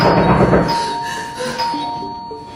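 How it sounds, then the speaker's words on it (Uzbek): A doorbell rings inside a house, its clear tone holding steady for a couple of seconds against a dense, noisy background, with no talking. "to'satdan eshik negadir yana jiringladi"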